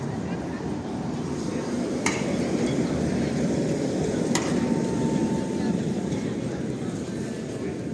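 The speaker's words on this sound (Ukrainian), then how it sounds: "А, ще один трамвайчик." A tram rumbles steadily past close by in Lviv, a dense low roar with a couple of sharp metallic clicks and a faint thin whine.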